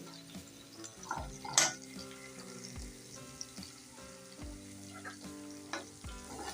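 Finely chopped onions sizzle in hot oil in a pan for a Kathiyawadi dahi bhindi dish, a constant close frying hiss broken by several sharp clanks of a spoon stirring against the pan.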